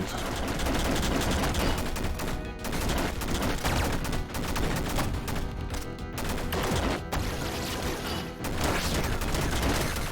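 Dense, continuous rapid-fire gunshots and blasts from the video game Downwell, including enemy triple shots, pound without pause at steady high loudness with a crunchy, chaotic texture.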